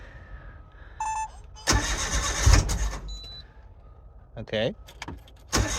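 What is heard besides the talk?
Autozam AZ-1 car engine starting with Keisport ECU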